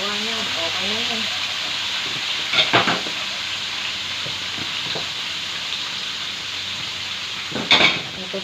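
Onion and chunky tomato pieces sauté in a pan with a steady sizzle and hiss, two sharper bursts of clatter or spatter standing out, and a voice speaking briefly near the start.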